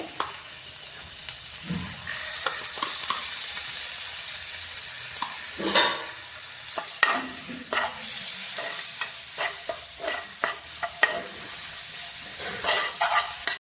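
Cut squid pieces fry and sizzle steadily in a pan with curry leaves while being stirred, with scraping and clattering spoon strokes scattered across the steady hiss and no talk.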